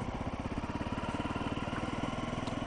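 A Honda 250L motorcycle rides along a winter country lane, its single-cylinder engine thumping in a fast, even pulse, close and steady throughout with no talk.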